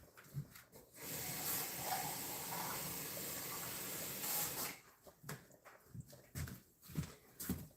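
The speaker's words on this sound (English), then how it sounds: "I'm gonna go ahead and rinse this and pour in" Water runs and splashes while a can is rinsed and liquid is poured into a pot of sauce, a steady hissing pour for several seconds followed by clinks and knocks of the can in a home kitchen.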